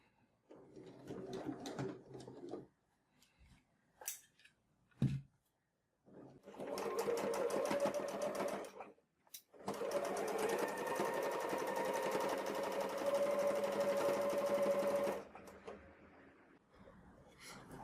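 Sewing machine stitching a fabric notebook cover, running in two long bursts of several seconds each, with short pauses and handling noises between runs; steady whirring hum at moderate loudness.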